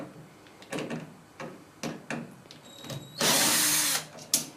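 Power drill backing screws out of a Whirlpool Diplomat dishwasher door, several short whirring bursts close by, then a longer loud harsh burst near the end with a final brief spin.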